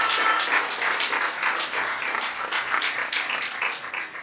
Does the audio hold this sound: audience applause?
yes